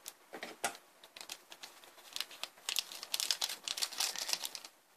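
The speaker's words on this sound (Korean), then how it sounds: "가위질, 이게 제일 속 편해." Scissors snip open a Mi Goreng instant noodle seasoning packet, giving close, crisp plastic crinkles and quick cutting snips in an irregular burst, with no talking.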